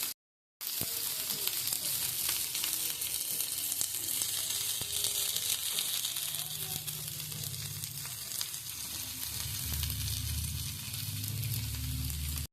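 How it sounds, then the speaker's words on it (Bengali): Chopped onion hits hot mustard oil after a moment of silence, then crackles in a loud, dense, unbroken sizzle with faint stirring underneath. "এবার এর ভিতরে আমি পেঁয়াজটা দিয়ে নিচ্ছি। পেঁয়াজটা একটু ভাজা ভাজা করে নেবো, তাই দিচ্ছি।"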